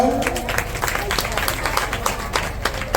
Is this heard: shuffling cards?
no